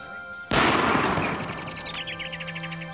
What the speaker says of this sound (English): Only a gun, Sergeant.